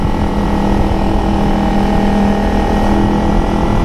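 A 2009 Kawasaki Ninja 250R limited edition motorcycle engine climbs uphill at steady mid revs around 5000–6000 rpm, a constant close drone with a steady hum and no break.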